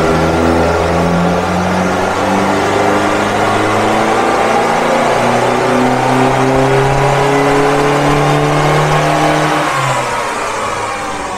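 A 2015 Mitsubishi Pajero Dakar revs hard on a dyno, the engine note climbing steadily and loud for about ten seconds before easing off, with no talk over it.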